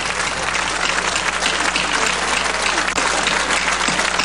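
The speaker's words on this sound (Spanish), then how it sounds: "que hoy fue aplaudido" Sustained applause from the Russian parliamentary assembly, a dense, steady clatter of many hands filling the room without pause, loud and close, with no clear speech over it.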